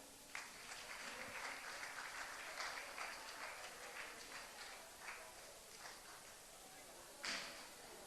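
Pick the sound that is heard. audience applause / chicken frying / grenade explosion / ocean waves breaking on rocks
audience applause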